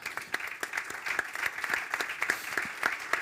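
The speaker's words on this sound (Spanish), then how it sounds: "Yo creo que le daría un aplauso a la familia," An audience at a hotel-industry event applauds a family: steady, fairly faint crowd clapping with dense overlapping claps throughout, no voices.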